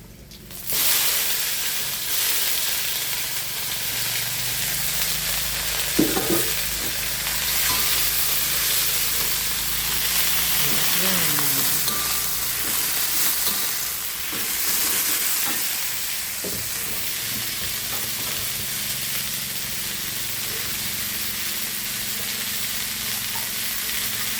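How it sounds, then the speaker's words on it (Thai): Dried shrimp and morning glory are stir-fried in a wok, a steady loud sizzle throughout with occasional scrapes and clanks of a spatula against the metal, no voices. "ให้กุ้งแห้งกรอบหน่อยแล้วเราก็ใส่ผัก"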